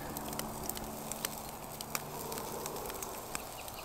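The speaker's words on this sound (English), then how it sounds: "And now we're barbecuing." Lamb chops sear on a barbecue grill, giving a faint, steady sizzling hiss dotted with small scattered pops and crackles throughout.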